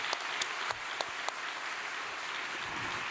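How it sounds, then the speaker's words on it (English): Applause from the audience at a vigil, with a few sharp individual claps standing out early, then settling into an even wash of clapping that fills the whole stretch. "Why don't we give them a big round of applause?"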